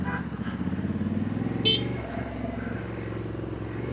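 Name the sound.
accidental horn honk on Honda Africa Twin motorcycle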